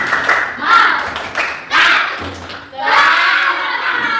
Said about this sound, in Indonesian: Sebelum ditutup pembelajarannya kita tepuk-tepuk dulu